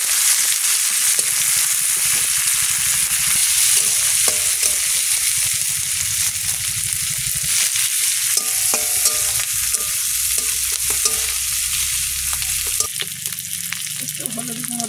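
Dried red chillies, garlic and green chillies fry in hot oil, giving a loud, continuous close sizzle with occasional stirring scrapes and clinks throughout.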